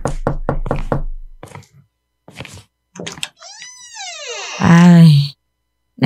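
Several quick knocks on a door sound in a rapid burst at the start, followed by sparse voices and then a loud drawn-out wailing cry.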